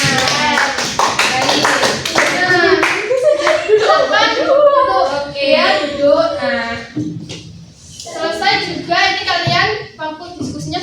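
A classroom of students claps for a group, with sharp rhythmic hand claps mixed in with loud, close voices chanting or singing along in a patterned beat.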